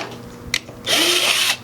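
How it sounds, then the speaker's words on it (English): Power drill boring a pilot hole with an undersized bit into the bumper of a budget SR20 240SX drift car, one loud steady whine lasting under a second after a brief click. "go ahead and drill a pilot hole with a smaller bit than you need"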